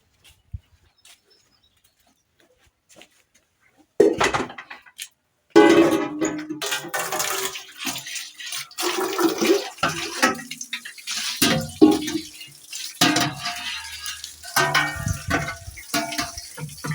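Water running from the tap of an outdoor water tank in the countryside, a loud, close, continuous splashing stream that starts abruptly and keeps flowing unevenly, with no one talking.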